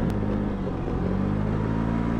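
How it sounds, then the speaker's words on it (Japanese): A Honda Giorno moped at full throttle climbs a steep uphill road at about 30 km/h, its small engine giving a steady, close droning rumble with no voices. "今ねフルスロットルなんですけども、時速30キロはギリギリ出てますね。"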